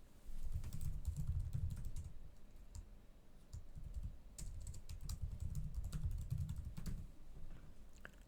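Keystrokes on a computer keyboard as a username and password are entered during a local WordPress setup, a quiet, steady run of close clicks with a brief pause midway and no talking.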